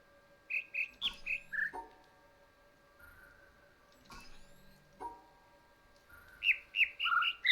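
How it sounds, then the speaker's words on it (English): Birds chirp in the video game The Witness, a series of bright, sharp tweets in quick clusters, with a quieter stretch in the middle before a dense burst of calls near the end. "Is every bird just gonna chirp right now?"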